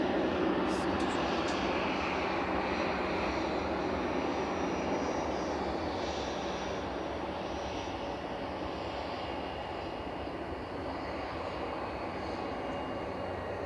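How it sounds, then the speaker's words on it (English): Loganair ATR 42 turboprop arriving at Manchester Airport from Inverness, a continuous broad engine roar held steady at moderate distance, slowly easing over several seconds. "Next in is Logan Air from Inverness, flight 597. This is GLMRD ATR 42."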